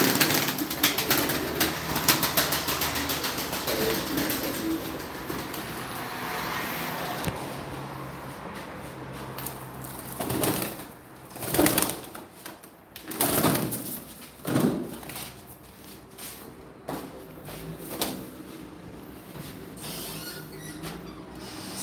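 Tumbler pigeons, a male and a female, coo and flap their wings in a steady, noisy outdoor space, with louder bursts of fluttering later on and no talk.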